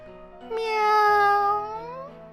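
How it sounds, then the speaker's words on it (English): A cat meows in the Corpse Party: Book of Shadows video game, one long, clear, drawn-out meow with a rising then falling pitch, close and loud over a faint background hum. "it let out an adorable meow"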